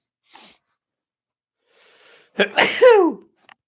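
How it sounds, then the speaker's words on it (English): A single loud, close sneeze with a sharp intake of breath before it, set in otherwise near silence with a faint sniff afterward. "Getting those sneezes out of the way early today."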